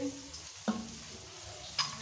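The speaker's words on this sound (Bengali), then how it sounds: "তেলের মধ্যে পেঁয়াজটা দিয়ে দিলাম, একটু ভাজা ভাজা করে দিই।" Onion frying in oil gives a faint, steady sizzle with a couple of soft clinks, brief and quiet, in a home kitchen.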